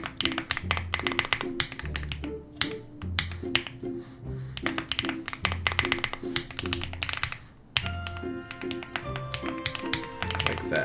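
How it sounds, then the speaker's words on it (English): Rapid keystrokes clatter on a computer keyboard during programming work, a close, steady stream of sharp clicks with brief pauses between bursts. "how are my audio levels when I'm typing?"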